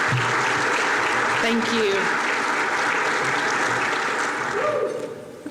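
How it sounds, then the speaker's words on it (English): An audience at an aerospace and defense event applauds and cheers for the Arkansas governor, loud sustained clapping that fades toward the end as she briefly speaks over it. "It's not every day I get behind a podium and people cheer and are excited to see me"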